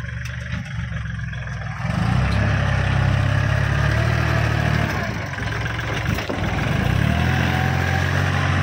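A 40 hp Kubota farm tractor engine starts up after a quiet moment and settles into a loud, steady, low diesel idle. It rumbles on evenly nearby, with a slight dip in the middle.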